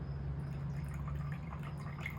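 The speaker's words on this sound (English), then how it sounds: "by making noise, pouring tea." Tea is poured into a cup in a quiet room, making a steady, faint trickling splash of liquid with no talking.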